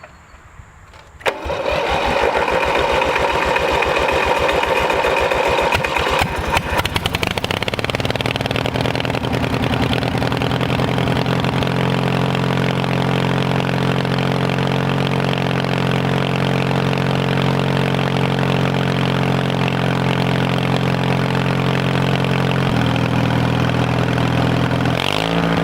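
A homemade redneck lawn mower engine, just repaired after a starter break, cranks and fires up, then runs steadily at close range with a constant droning idle and a slight pitch shift near the end.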